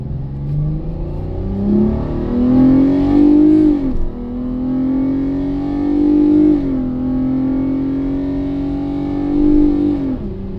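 A fifth-generation Dodge Caravan minivan engine pulls hard while driven, climbing in pitch through several rising sweeps with a shift drop near the middle, steady and close inside the cabin with no talking.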